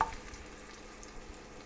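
Chorizo fat sizzling in a frying pan, a soft continuous crackle and hiss, fairly quiet and close, with a faint clink at the start and no talking.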